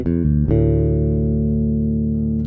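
Bass guitar played through an EQ pedal with the mids cut, the bass and treble boosted and some compression, giving a few quick note changes and then one loud, steady sustained note ringing alone.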